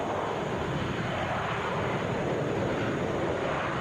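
A Delta Boeing 757 arriving at Atlanta airport from Norfolk, heard as a steady, loud, broadband jet roar that holds evenly throughout with no pauses.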